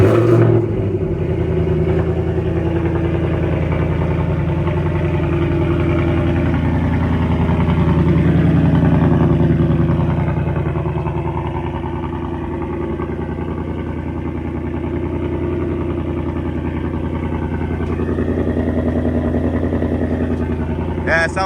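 A 2024 Mustang GT fitted with a Roush X-pipe, cats and stock exhaust retained, rumbles steadily near and loud at idle with a gentle swell around the middle, deep and continuous throughout.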